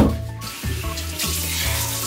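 Water runs steadily from a bathroom tap as someone washes their forehead at the sink, a close, continuous splashing stream with small shifts in flow and no talk.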